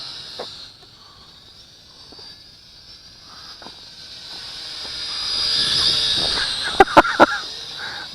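Small MJX RC X400 quadcopter drone flying outdoors, a faint whining buzz that swells as it nears and grows louder, ending with a few sharp knocks.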